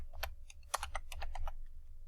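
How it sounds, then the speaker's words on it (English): Quick, light keystrokes tap on a computer keyboard in an irregular burst, close and fairly quiet. "So now I'm able to start typing."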